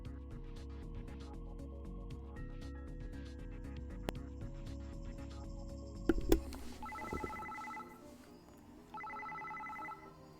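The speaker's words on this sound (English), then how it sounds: "Suddenly, it seemed like Shiori's cell phone started ringing." A cell phone rings in the visual novel Psycho-Pass: Mandatory Happiness, two bursts of an electronic ringtone trilling over quiet background music after a soft clatter.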